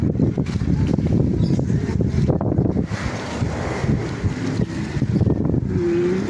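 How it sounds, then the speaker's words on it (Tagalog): Strong outdoor wind buffets the microphone in continuous gusty rumbles, loud and close, with no one speaking. "Ang hangin."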